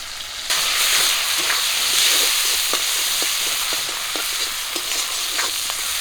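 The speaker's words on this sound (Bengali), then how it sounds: "কাঁচা লঙ্কা পেঁয়াজ একটু লাল করে ভেজে নিয়েছি" Chopped onion and slit green chili frying in oil in a pan, a steady loud sizzle and hiss throughout with occasional stirring scrapes and pops, no talking.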